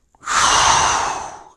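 A single clear, steady inhale through the mouth during a resistance band arm exercise, close and isolated, lasting just over a second.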